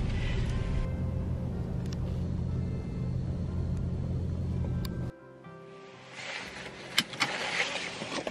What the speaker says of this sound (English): we're turning off the car